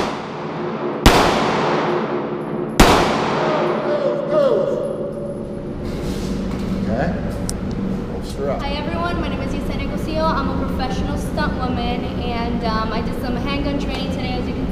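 Handgun shots ring out during firearms training: two sharp, loud reports a couple of seconds apart, each followed by a ringing decay, then a run of busy activity and voices.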